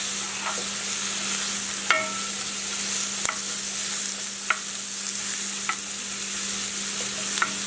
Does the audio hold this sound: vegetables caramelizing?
yes